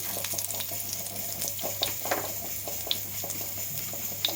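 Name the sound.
cumin seeds frying in oil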